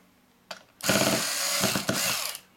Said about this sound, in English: just loosen these screws slightly